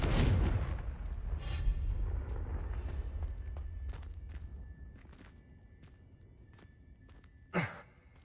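A Confringo explosive spell is cast in Hogwarts Legacy, giving a loud burst at the start that fades into a rumbling tail, then a sharp crack near the end.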